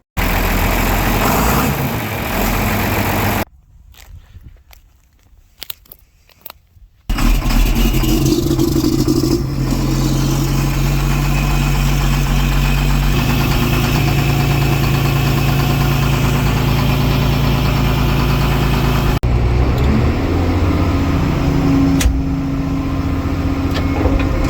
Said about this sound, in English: That was enough pre-emissions engines to balance out the carbon footprint of 10 smart cars.